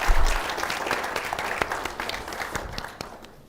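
A conference hall audience at a healthcare management conclave applauds a guest, dense crowd clapping that starts loud and slowly tapers off over a few seconds, with no talk.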